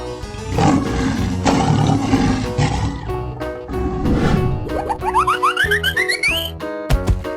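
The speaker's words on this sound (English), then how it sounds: "Lion." Lion roaring in a 3D animal video game, loud and close, with game music and a rising boing-like effect toward the end.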